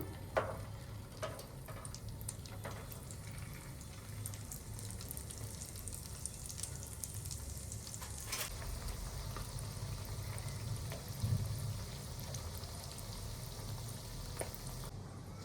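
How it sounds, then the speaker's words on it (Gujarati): Sabudana and potato tikki fry in oil in a pan, giving a soft continuous sizzle with occasional crackles and faint clinks of utensils, steady and close with no talking. "એ જ રીતે આપણે બીજી ટિક્કી પણ ફ્રાય કરી લઈશું."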